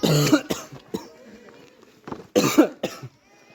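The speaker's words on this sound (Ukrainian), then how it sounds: "Ти що кашляєш так?" Coughing from a person walking outdoors toward a monastery, a loud harsh burst at the start and another about two seconds later, with quieter rustling and a brief voice between.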